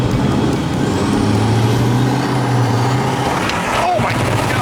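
A heavily modified, unreliable diesel vehicle roars at full throttle, the engine drone steady and loud with a rising whine, then a sharp hiss near the end, while people talk excitedly over it.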